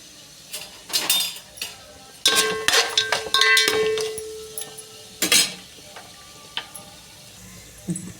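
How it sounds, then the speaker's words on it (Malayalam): Cashews and whole spices are sautéed in a metal pan: a spoon clinks and scrapes against the pan in irregular bursts, with a faint sizzle underneath. "ഒരു പിടി കാജു, അതായത് നമ്മുടെ കശുവണ്ടി വിട്ട് ഇതിപ്പം വഴറ്റിയെടുക്കാം"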